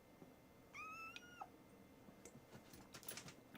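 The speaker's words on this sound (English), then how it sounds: "apparently my kitten's crawling up my leg right now" A kitten gives a single high, drawn-out meow of about half a second, faint against quiet background noise.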